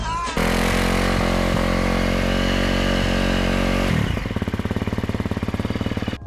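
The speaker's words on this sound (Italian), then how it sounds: "la prima cosa da fare è accendere la moto" A motorcycle engine fires up at the press of a starter button and settles into a loud, steady idle close by, its tone shifting to a rougher, pulsing beat near the end.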